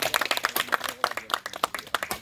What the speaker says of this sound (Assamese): সকলোৱে আমি হাত চাপৰি দি